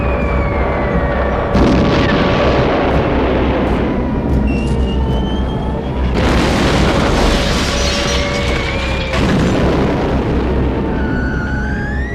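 Bomb explosions arrive as heavy booming blasts in several loud waves over a constant roar, with wailing sirens rising and falling in the background.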